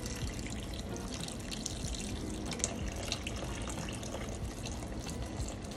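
Warm water poured into a cooking pot while making Jamaican oxtail, a soft continuous splashing and trickling stream, fairly faint and steady throughout without talk.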